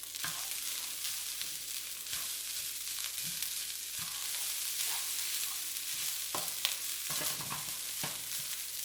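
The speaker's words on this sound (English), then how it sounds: "We're going to stir everything all together." Beef fried rice stirred in a hot pan, with a steady sizzle of frying under repeated scrapes and taps of a utensil against the pan, close and moderately loud.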